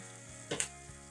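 Sardines frying in oil in a pan for puttanesca, broken up with a spoon: a soft steady sizzle with a brief louder scrape-and-crackle burst near the middle, close and fairly quiet.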